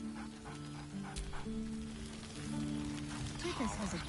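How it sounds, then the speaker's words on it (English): Scratch, the dog in the video game Baldur's Gate 3, gives a cheerful bark and whimper over sustained game music, the bark rising near the end of the clip. "Scratch barks merrily in something like agreement."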